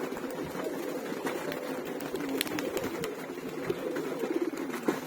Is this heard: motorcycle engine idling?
no